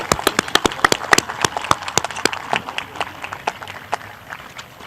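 A round of applause from an audience at a high school scholarships and awards ceremony for National Merit Scholarship finalists, with distinct individual claps, brisk at first and thinning out toward the end, moderately close.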